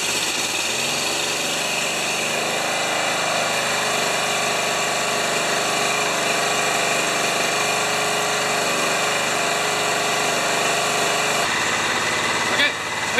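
A John Deere STX38 lawn tractor engine runs on partial choke, a loud, steady, close mechanical drone that holds constant throughout, with a brief clunk near the end.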